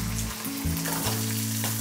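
Onion and dried chilli sizzle and fry in hot oil for a tempering, a steady close crackling hiss with a low hum running beneath, no voices.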